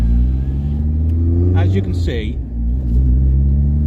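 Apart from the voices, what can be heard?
Volkswagen Golf GTI Mk2 16v engine revving on dyno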